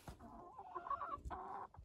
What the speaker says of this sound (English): And the Rhode Island Reds here. They lay the brown eggs.